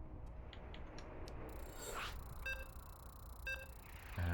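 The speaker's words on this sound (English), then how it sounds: "As you can hear the beeps, we are getting into game 2." Countdown beeps before a StarCraft 2 tournament match, a Protoss versus Terran game: two clean electronic beeps a second apart, moderately loud over faint background noise with no talk.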